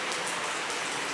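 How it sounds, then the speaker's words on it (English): Steady rain pours down outside a Buc-ee's store during a rainstorm, a dense, even hiss of drops on hard surfaces with no voices over it. "we're kind of being held hostage by the rain right now"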